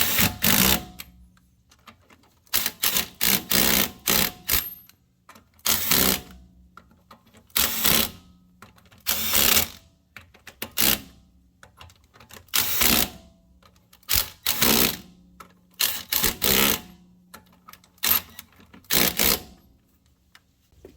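An 18 volt cordless power tool tightens wheel nuts in repeated short rattling bursts separated by brief pauses, close and fairly loud.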